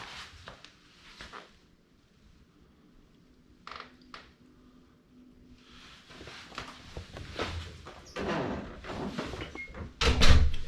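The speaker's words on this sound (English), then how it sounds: "Shut the door here and go down." A few quiet knocks and shuffles in a garage workshop, then a cabinet door is pushed shut with a solid thump and clatter, close by.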